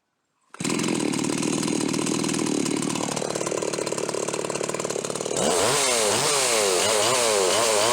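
Stihl 039 chainsaw with a modified muffler revs loud and steady after a brief silence, then bogs and wavers as the chain bites into wood during a cut, close and alone without talk.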